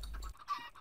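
Minecraft chickens clucking in the video game, a few short soft clucks and squawks, fairly quiet and close with no talking over them.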